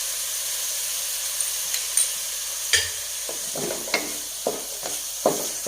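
Chillies and spices cook in a little ghee, a soft steady sizzle marked by a series of scraping stirs that come every second or so, close and clear with no talking.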